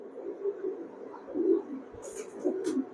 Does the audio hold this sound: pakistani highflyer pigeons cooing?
yes